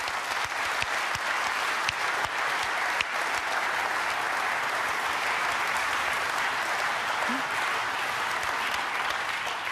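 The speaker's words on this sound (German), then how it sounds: "ist auch einen Applaus wert." Sustained audience applause at a formal anniversary ceremony in Berlin, a steady dense wash of many hands clapping evenly throughout with no voices on top.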